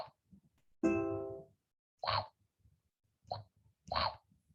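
Scratch's bite sound effect: a short, bright plucky chomp tone rings for a moment amid soft, quiet chewing-like noises and scattered plops.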